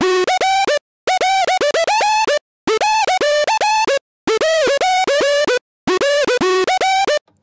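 Distorted square-wave synth lead plays a loud, bright melodic phrase of short stepped notes in five bursts with brief gaps, buzzy and harmonically rich, with no voices.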